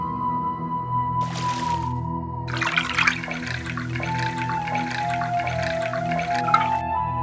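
In an animated Bengali comedy, water is poured from a pot for drinking. Two bursts of splashing, the first short and the second long and sustained, play over a steady musical background.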